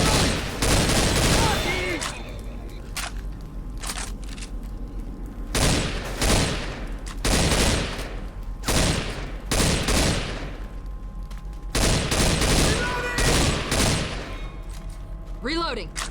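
Rapid automatic gunfire from a zombie shooter video game rings out in repeated loud bursts separated by short pauses, and a voice briefly speaks near the end.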